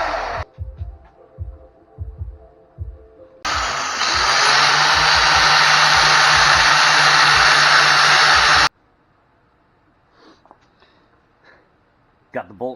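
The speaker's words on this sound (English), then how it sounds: "Got the bolt cut." A power tool cuts through a bolt head with a loud, continuous high-pitched grinding whine lasting several seconds, bracketed by quieter knocks and a low rumble.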